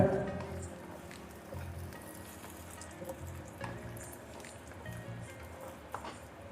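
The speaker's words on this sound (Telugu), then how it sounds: "కొంచెం కరివేపాకు క్రిస్పీగా అయిన రాపేసుకుంటే మన పోపు రెడీ." Hot oil crackles and sizzles as curry leaves fry for a tempering for peanut chutney, a steady gentle hiss with scattered pops, fairly faint.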